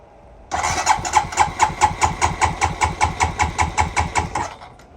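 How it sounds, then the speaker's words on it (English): A worn 2007 Honda TRX250TE ATV engine cranks and catches, then runs for about four seconds with a rapid, even chugging pulse and a loud, close throttle-held tone before cutting off. "you guys are gonna have to push the starter button and I'll hold the throttle"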